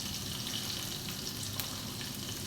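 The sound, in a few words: mustard seeds sizzling in hot oil for masala bhindi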